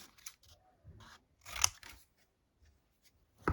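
Scissors cut scrap material into small triangles up close, giving a few quick, crisp snips and one louder slicing crunch near the middle, with quiet gaps between the cuts.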